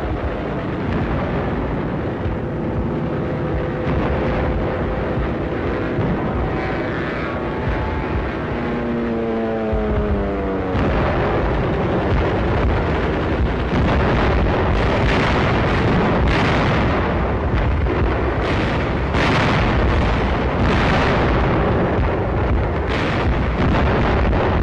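Heavy artillery blasts and explosions boom continuously in a World War II Battle of the Bulge bombing scene, with droning aircraft engines sweeping past early on, then dense, loud rolling detonations dominating.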